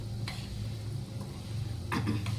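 Mango pickle mixture being stirred in a pan over a low gas flame, with a steady soft scraping and sizzling bed and a few louder utensil scrapes near the end.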